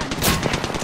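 Rapid automatic gunfire from a battle-royale video game rattles continuously and loudly through the whole moment, with dense overlapping shots and no voice on top.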